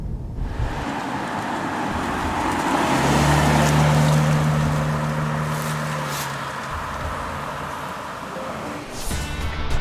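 A 2013 Cadillac ATS drives along, its engine note swelling and easing in a smooth hum with road and wind noise around it, heard from inside or close by.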